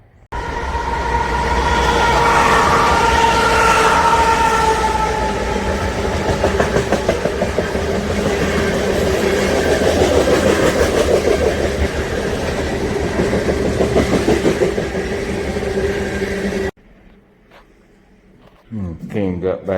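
A freight train rolls past on rails with a loud, continuous rumble and a rhythmic clickety-clack of boxcar wheels for most of the clip, then cuts off abruptly to near quiet before a short burst of noise returns.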